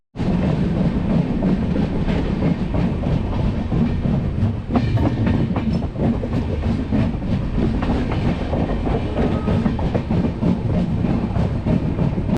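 The Konkan Kanya Express rumbles steadily along the rails, a loud continuous roar with faint rhythmic clacking from the wheels, heard from inside a carriage.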